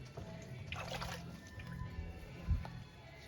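Water drips and trickles softly off a brick just dipped in water for bricklaying, faint and close, with a few small splashes and one slightly louder drop.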